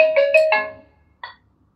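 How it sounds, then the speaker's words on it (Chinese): A ringtone from a mini toy gadget paired with a phone signals an incoming call, a short close electronic melody of a few quick tones followed by a brief single blip after a pause. "你们打电话进来了"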